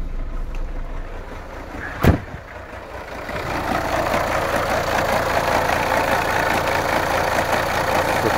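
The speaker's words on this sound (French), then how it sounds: "Normalement, il devrait pas trembler comme ça. Le moteur, il tourne pas très bien." A Renault Clio 2 dCi diesel with a starting problem idles roughly with a steady, uneven rumble, interrupted around two seconds in by a sharp bang or knock before the engine settles back into its shaky running.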